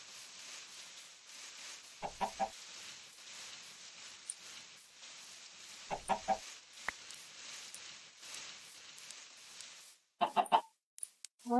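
Chickens in the Minecraft video game give short bursts of clucking in three separate clusters, the last one louder and closer, with quiet gaps between them.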